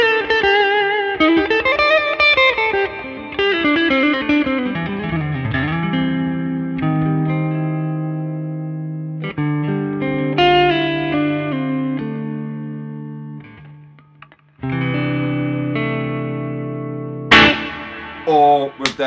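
Bright, trebly distorted electric guitar played without an amplifier, strummed chords and single notes ringing with heavy effects and reverb, loud and close, with brief pauses between phrases.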